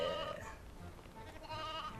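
Sheep bleat in the game Toy Story 2: Buzz Lightyear to the Rescue, a wavering nasal bleat up front followed by another quieter one, with game ambience underneath.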